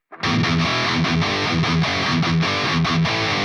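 Distorted electric guitar plays the outro riff of a song, palm-muted open E chugs and fretted double stops, loud and dense with no talking.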